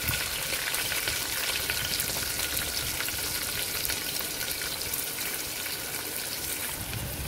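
Onion sizzles steadily in hot oil in a pan with fresh bay leaves, an even, close frying crackle that carries on unbroken with no voices over it.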